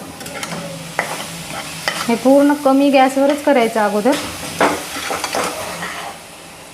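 A spoon scrapes and stirs through a thick grated fresh coconut and sugar mixture in a sizzling pan, in quick rhythmic strokes, while someone talks over it.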